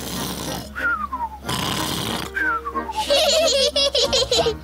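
A voice imitates a cartoon pig character from Peppa Pig snoring loudly after overeating: long, noisy breathing snorts alternating with descending whistles, repeated several times and close up.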